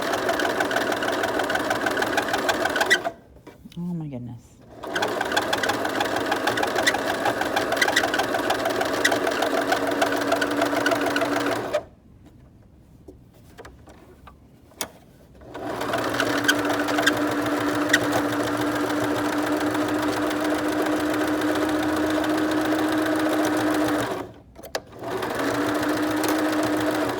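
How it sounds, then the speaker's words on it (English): A sewing machine stitches a seam around a face mask in long continuous runs of rapid, even mechanical chatter, stopping briefly three times between passes. "stitching and we're doing this to get a nice seam all the way around and close the hole we made."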